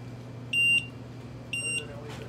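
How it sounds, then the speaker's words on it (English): A security alarm, set off by an Ethernet cord, gives two short, sharp, high beeps about a second apart, each clear above a low background hum. "Sets off the security alarm"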